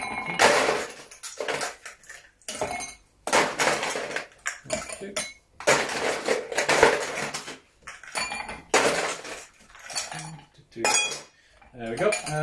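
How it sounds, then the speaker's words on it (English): Big chunks of ice are dropped into cocktail glasses, sharp clinks and clattering bursts repeating in irregular clusters with short pauses between, close and fairly loud. "Just grab your glasses and put big chunks of ice."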